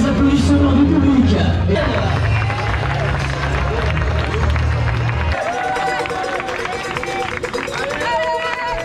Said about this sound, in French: toujours les applaudissements du public.